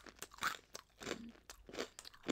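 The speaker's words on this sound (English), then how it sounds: "Pretzel ASMR, right?" Close, crisp crunches of someone biting and chewing FitJoy Hatch Chile Lime pretzel twists come in a few separate bursts with short pauses between them, quiet and without talk.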